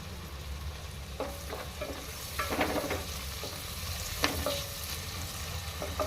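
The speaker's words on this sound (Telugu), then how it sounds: "ఫ్రై అవుతున్నాయి కదా, పచ్చిమిర్చి కూడా వేసుకున్నాం." Whole spices, bay leaves and green chillies fry in a pan for coconut pulao: a steady, close sizzle with occasional light pops and stirring scrapes scattered through it, and no talking.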